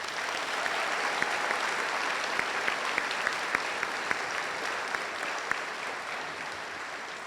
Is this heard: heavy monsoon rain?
no